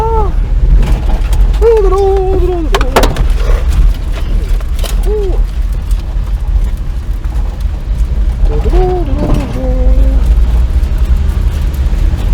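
A 6-cylinder car drives along at steady cruising speed, its engine and road rumble loud and continuous throughout, with brief tonal squeals and a few sharp knocks cutting through.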